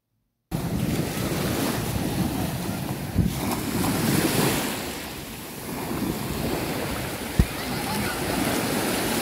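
Sea waves along the Yemen coast on a hot day, a continuous wash of surf mixed with wind buffeting the microphone, close and fairly loud, with a couple of sharp knocks.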